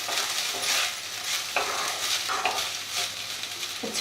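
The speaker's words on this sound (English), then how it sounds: "I will add little butter to it. Mix them all well again." Garlic rice being stirred with butter in a frying pan, a spatula scraping and tossing rice over a soft sizzle, with intermittent clinks against the pan, close and steady.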